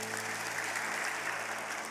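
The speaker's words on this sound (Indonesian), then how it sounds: "Bisa kasih tepuk tangan bagi Tuhan kita." A church congregation applauds during a sermon, a dense, steady patter of many hands clapping together at moderate distance, with no talk over it.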